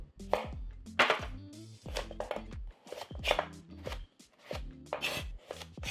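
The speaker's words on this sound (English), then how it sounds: "So first we do the knife work for all these vegetables." A knife cuts vegetables such as carrots and celery on a cutting board, with quick bursts of crisp, close chops in an uneven rhythm.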